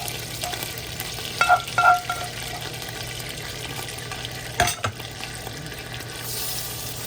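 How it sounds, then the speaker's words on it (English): Ground meat fries in a pan as chili seasoning is stirred in: a continuous hiss of sizzling with scraping strokes and a couple of brief clinks of the spoon against the pan, heard up close. "I want to try to mix the chili in with the meat first before I do the sauce"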